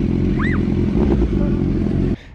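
A 1974 Kawasaki H1 Mach III 750cc two-stroke triple motorcycle runs loud and close with a crackling, buzzing drone, then drops abruptly to a lower idle near the end.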